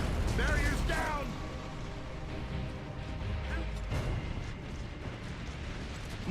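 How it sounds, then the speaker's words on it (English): Mortar fire in Gears of War: Judgment lands as two booming impacts, one at the start and another a few seconds later, with rumbling battle noise between them and a voice talking. "Mortars."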